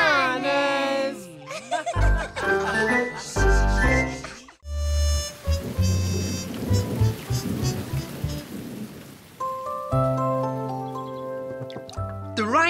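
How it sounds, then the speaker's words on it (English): Cartoon rain in a Bananas in Pyjamas episode: a steady wash of falling rain with rumbling thunder, mixed with music and sound effects, under character voices. "The rain stopped, B1."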